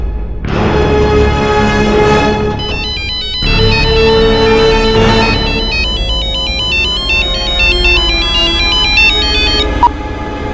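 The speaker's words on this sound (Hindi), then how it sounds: "तेरे बाबा फोन नहीं उठा रहे।" A phone rings over and over and nobody picks up: a steady electronic ringtone melody, loud and close, cycling without a break for about ten seconds.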